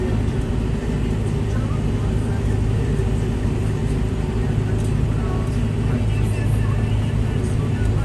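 A tractor engine drones at about 1600 rpm under light load while sowing winter wheat in dry soil, a steady low rumble running continuously throughout.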